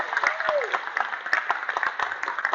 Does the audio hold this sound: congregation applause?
yes